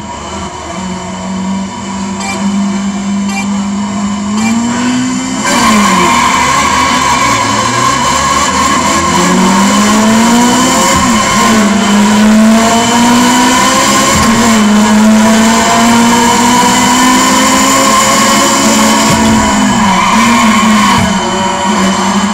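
Race car engines in the F355 Challenge 2 driving game roar at the race start, a loud sustained engine whine rising and falling through gear shifts with bursts of tire squeal, heard alone without talk.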